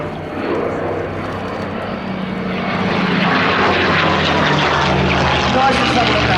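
A Messerschmitt 109 Buchon fighter plane roars past at an air display, a steady dense piston-engine drone that swells gradually louder over several seconds, with commentary talk over it.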